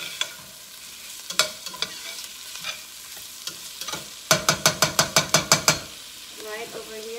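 A spoon stirs boiling pinto beans in a pot, scraping and clinking against the metal in a close, irregular rhythm, then a fast run of evenly spaced knocks, over a faint bubbling simmer.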